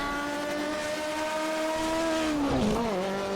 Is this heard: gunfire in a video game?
no